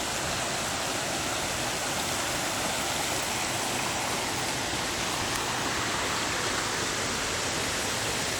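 A river rushes steadily beside a waterfall in Fiji on a coastal hike, a dense, unbroken roar of flowing water that stays loud and even throughout with no voices.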